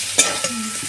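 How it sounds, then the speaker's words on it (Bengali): Boiled potatoes fry with garam masala and spices in a pan for Kolkata-style aloo chop: a short burst of sizzling with a metallic clink of a stirring spoon near the start. "এমনি সিদ্ধ করে আলুগুলো আমি দিয়ে ভাজবো"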